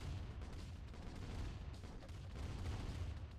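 Grenadiers throwing and firing in the Command & Conquer Remastered strategy game, a dense, muffled rumble of overlapping blasts and thuds, continuous and fairly faint.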